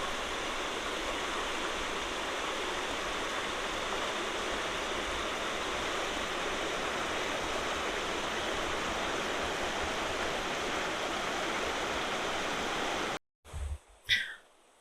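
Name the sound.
river flowing by a campsite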